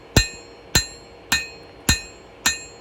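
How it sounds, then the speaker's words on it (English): A blacksmith's hammer strikes high carbon steel on an anvil five times in a steady rhythm, each blow a loud, close, bright ringing clang that decays quickly, with no talking. "my hammer is pretty much staying in one spot, and I'm moving the steel under the hammer"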